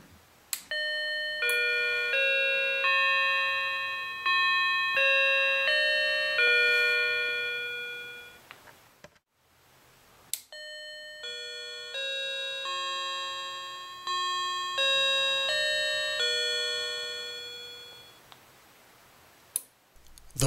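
A wireless door entry alert receiver plays its electronic chime, a tinkling multi-note melody of clear tones that rings out twice in succession, each sequence fading away, close and fairly quiet.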